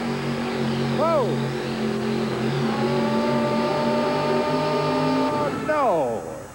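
A monster truck makes a pull run at a 1988 USHRA four-wheel-drive truck pull in Denver, its engine droning loud and steady before revving sharply near the end, with crowd noise and an announcer's voice throughout.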